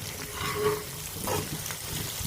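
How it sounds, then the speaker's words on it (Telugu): Two small onions with salt and curry leaves fry in a pan, a steady close sizzle with faint stirring scrapes throughout, with no voices. "వేసుకొని ఆనియన్స్ బాగా ఫ్రై చేయాలి."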